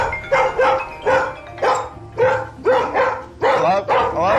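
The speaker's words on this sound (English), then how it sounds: "I knew they had a problem with barking, but that's really, really intense." A Border Collie barks repeatedly and loudly in a steady rhythm, about eight harsh barks in quick succession, close by.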